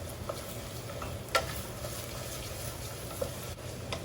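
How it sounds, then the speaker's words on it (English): Onion, garlic and bacon fry gently in a pan for a meat sauce, producing a faint, even sizzle with a couple of soft clicks from stirring. "while the onion and the garlic and the bacon finish cooking"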